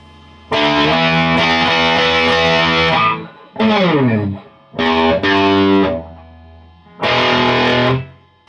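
Distorted electric guitar strums heavy chords of a riff in four loud bursts: a long held chord, a short bending chord, a doubled stab and a final sustained hit, separated by brief silences.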